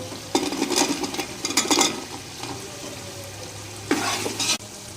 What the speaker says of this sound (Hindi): अब वेजिटेबल को 10 से 15 मिनट हम इसमें मसाले में भूनेंगे।